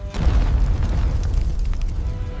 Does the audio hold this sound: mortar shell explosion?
yes